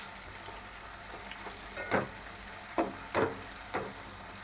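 Ridge gourd pieces and tamarind fry in a pan for chutney, giving a steady close sizzle broken by a few sharp crackling bursts as the food is stirred.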